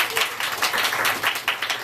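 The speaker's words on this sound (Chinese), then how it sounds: "我们先给所有新朋友这些掌声欢迎他们" An audience at an evening sharing event in Tainan claps together to welcome first-time guests, a dense, steady burst of applause filling the hall with no speech over it.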